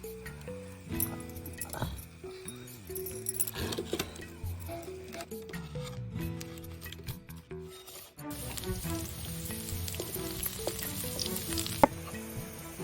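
Onions frying in oil in a pan in a village kitchen, with millet flour being added and stirred in: a steady close sizzle with clattering stirs, growing louder and denser in the second half.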